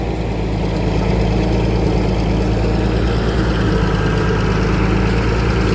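A Lao farm vehicle's engine idling just after starting, a loud, steady low rumble with constant vibration and no break across the whole stretch.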